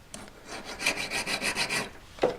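A hand file rasping on a metal V claw, a series of quick rhythmic strokes, close and moderately loud, ending with a brief sharp scrape.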